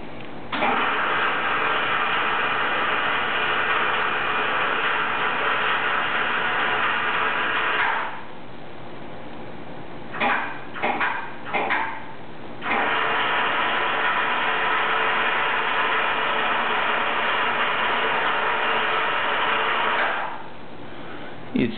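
A Greenlee 855 smart bender conduit bending machine runs with a steady mechanical motor drone, stops briefly with a few clunks and ratcheting clicks, then resumes its loud continuous whir before cutting off again.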